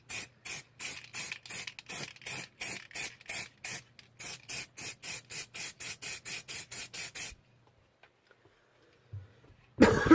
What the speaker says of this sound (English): I'm just using clear lacquer